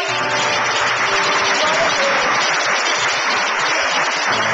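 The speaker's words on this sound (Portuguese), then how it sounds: "Você pode aplaudir ao Senhor?" A church congregation applauds the Lord in a steady, dense wash of clapping that holds loud and even throughout, with faint voices mixed in.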